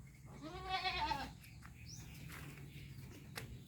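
Goats bleat in a wavering, harmonic call while being herded out to graze, one loud bleat up front followed by quieter farm background and faint scattered sounds.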